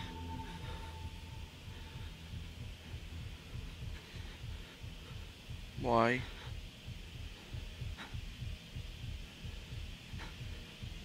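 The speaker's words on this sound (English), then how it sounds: "What does it mean by heartbeat?" Heartbeat effect in the horror video game Outlast: Whistleblower, a steady low thumping pulse running through the whole stretch under a game drone, with a brief rising tone near the middle and a person speaking briefly.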